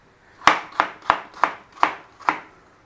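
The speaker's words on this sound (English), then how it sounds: "Just core up your apple for slicing." A knife cuts through a cored apple on a cutting board, six crisp chops at a steady rhythm, close and clear with no talking.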